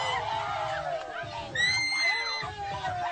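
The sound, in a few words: crowd cheering, screaming and clapping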